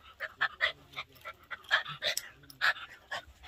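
A puppy pants rapidly and close up, a quick string of breathy huffs with a faint whimpering edge, steady and alone without speech.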